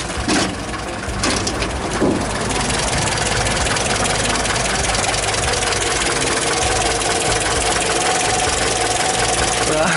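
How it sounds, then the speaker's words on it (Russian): A GAZ-21 Volga car engine idles in a steady, close, loud rumble with light knocking texture, and a couple of sharp knocks come near the start. "Тихий двигатель."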